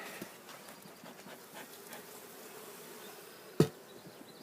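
A captured honeybee swarm hums steadily and softly around an opened hive frame, a close continuous drone broken near the end by a single sharp knock.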